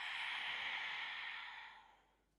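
One long, soft exhale of breath through the mouth during a foam roller exercise, a breathy hiss that starts full and fades out over about two seconds, quiet and close.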